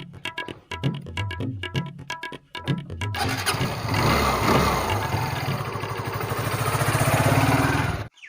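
A motorbike engine is started after a few cranking bursts, catching at about three seconds and settling into a steady, loud idle with a rising rev, close by with no talk.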